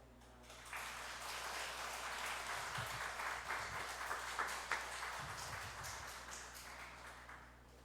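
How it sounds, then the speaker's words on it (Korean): A church congregation gives a faint, even round of applause for elders receiving gifts, a soft wash of clapping heard from some distance over a low hum, with no talking. "제가 드릴 때 여러분 박수로 축하해 주시기 바랍니다."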